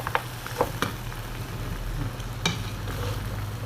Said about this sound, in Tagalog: haluin natin ulit guys yung kamatis